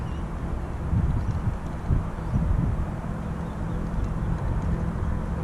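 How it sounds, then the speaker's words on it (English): Gusty wind buffets the microphone while kayaking on Narrabeen Lagoon, a low rumbling roar that rises and falls in waves throughout, with no speech. "It's a bit windy today"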